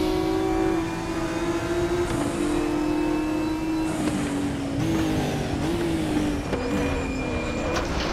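Race car engine in the RaceRoom Racing Experience sim, a loud continuous drone rising and falling through gear changes as the car powers onto the start-finish straight, with brief shifts and lifts along the way.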